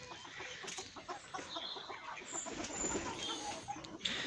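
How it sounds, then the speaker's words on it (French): Hens cluck and chatter continuously in a busy coop, several birds overlapping at moderate distance, with no one speaking. "je vous remonte les poules"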